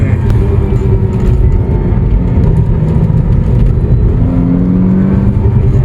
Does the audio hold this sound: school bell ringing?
no